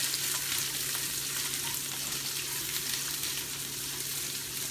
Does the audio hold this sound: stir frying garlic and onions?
yes